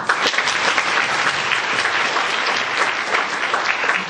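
Warm, steady applause from a large audience at a university faculty concert, dense and even throughout, with no voices standing out.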